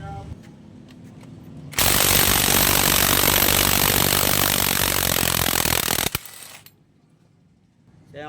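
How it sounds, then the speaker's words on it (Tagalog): A power drill works on a broken stud bolt on a motorcycle, giving a loud, continuous whirring grind of about four seconds. Quieter metallic handling sounds come before and after it. "Ito yung gagamit ng barina."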